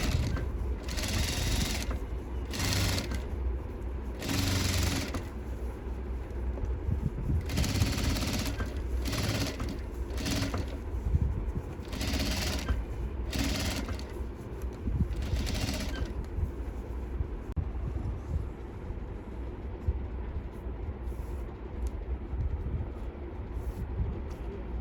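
A sewing machine stitches a keyhole opening on a sleeveless blouse in repeated bursts of rapid whirring clatter separated by brief pauses, close and steady, over a faint room hum.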